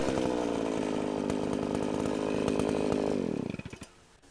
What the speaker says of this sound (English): Here, I don't need your power tools.